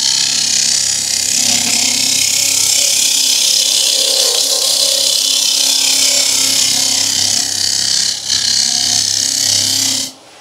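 Woodturning gouge cutting end grain on a lathe while turning an open wood vase, a loud steady hiss of shavings peeling off over a constant machine hum, running continuously before stopping abruptly at the end.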